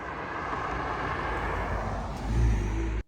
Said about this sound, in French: il y a un beau cab Mustang qui arrive